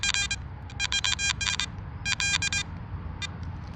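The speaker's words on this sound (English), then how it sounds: "Sorry about that detector noise." Metal detector beeping while searching a WW2 camp site: rapid clusters of sharp, high electronic beeps in irregular bursts over a low rumble of outdoor background noise, with no speech.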